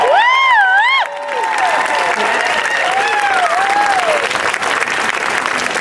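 Wedding guests at El Presidio de Santa Barbara break into loud, sustained applause close by, with a singing voice and scattered cheers rising over the clapping at the start.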